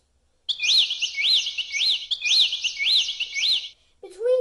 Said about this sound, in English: I'm talking about the birds.